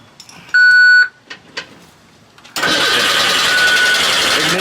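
Race car on its own fuel system: a loud beeping tone, then a pause with a few small clicks, then the engine cranking with a sustained, dense, rough whirring that runs to the end.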